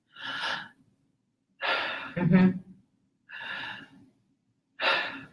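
Demonstration of non-connected breathing: four separate breath sounds, each an audible inhale or exhale with a clear pause between them, close and fairly soft, the second one longer and fuller, with no speech.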